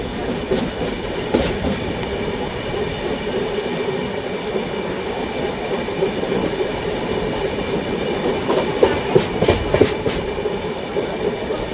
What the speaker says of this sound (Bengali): চলো ট্রেন এখন আমাদের টানবে আবার 130 থানা জংশন অবধি